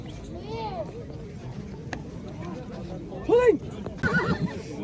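A bay foal whinnies at a busy livestock market, with a short rising-falling neigh at the start and louder calls near the end, over steady crowd murmur and background talk.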